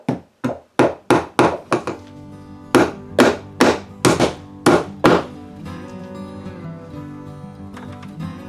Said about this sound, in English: I'm going to just drive a nail through here